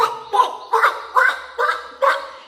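Six evenly spaced squawking quacks from a voice imitating a duck and a chicken, each call short and nasal, close and loud.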